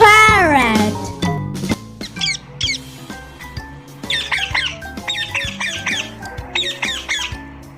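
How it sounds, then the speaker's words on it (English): A cartoon-style parrot squawks repeatedly in a children's phonics alphabet lesson, with shrill, rapid chirps and screeches over a busy musical background. "P for parrot."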